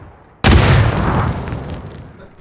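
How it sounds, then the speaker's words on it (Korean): A grenade explodes in the PUBG video game, giving a single sudden loud boom with a rumbling tail that fades over about two seconds. "야야야 수류탄 몇 개나 날라"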